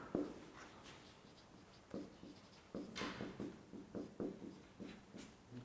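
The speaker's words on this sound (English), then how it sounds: "let me write it over here" Chalk strokes on a board during a signals and systems lecture: a series of short scratchy taps and squeaky strokes in uneven bursts, close and fairly quiet, with no talking over them.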